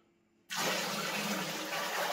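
Ordinary tap water starts pouring suddenly after a moment of quiet, a steady broad splashing stream filling a container, close and fairly loud.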